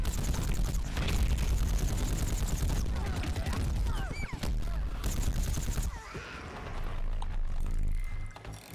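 Rapid bursts of gunfire crackle through a busy multiplayer battle in Plants vs Zombies Garden Warfare, loud and dense alongside other game effects, dropping briefly before resuming.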